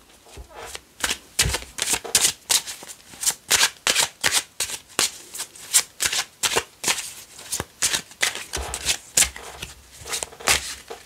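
Tarot cards shuffled by hand in a steady run of crisp riffling bursts, close and fairly loud, about two per second with brief gaps between them.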